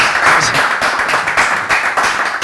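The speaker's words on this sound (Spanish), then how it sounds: "dadle un aplauso por esto" Studio audience applause during a Spanish comedy talk show special about the Basque elections, a loud, dense wash of clapping sustained throughout with steady rhythmic peaks.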